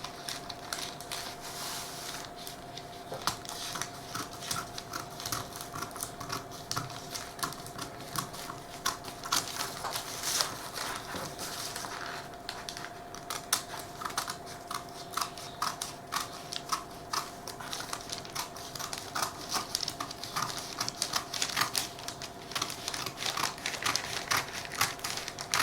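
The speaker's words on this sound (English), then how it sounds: "I'm just cutting 2 circles at the same time, or trying to do that" Scissors snip through two stacked layers of fabric at once to cut a pair of circles. The crisp cuts come close and fairly quiet in an irregular run, with faint rustling of the material between snips.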